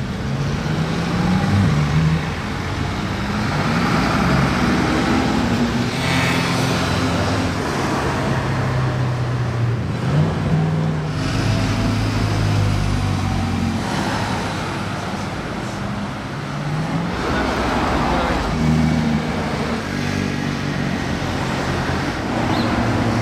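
Porsche moving through dense Monaco street traffic, a steady close roar of engines and tyres, other cars and heavier vehicles droning past without a break, no talking.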